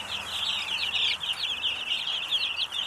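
Chickens in a chicken barn make a continuous chorus of high, chirping peeps and clucks, steady and close, with no talk over them.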